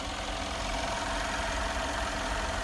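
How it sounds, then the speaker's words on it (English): A luxury SUV's powerful engine idles steadily, a continuous low rumble with a broad hiss on top, heard close and alone with no voices. "Very powerful engine."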